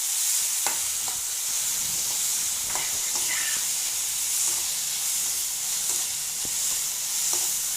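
Chopped vegetables frying in oil in a pan before tomato goes in, a continuous sizzle with occasional scraping and clinking stirs, no talking.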